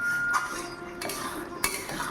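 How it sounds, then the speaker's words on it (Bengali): Milk cream being stirred in a metal kadai to make ghee, a quiet scraping with a few sharp metallic clinks of the spoon against the pan, heard alone without talk. "দেখুন অনর্গল নাড়াচ্ছি বলে এটা কড়াইতে লাগছে না"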